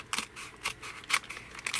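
Several quick, crisp snips of scissors cutting through a thin, crinkly glassine bag, close and fairly quiet, in an uneven rhythm.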